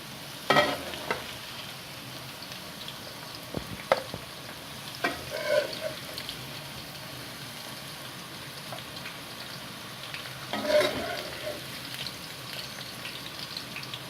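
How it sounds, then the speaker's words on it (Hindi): Okra (bhindi) frying in ghee for a dhaba-style masala bhindi gives a quiet, steady sizzle, broken now and then by a few louder scrapes and stirs. No one speaks. "भिंडी को हमने 5 से 8 मिनट के लिए फ्राई किया है।"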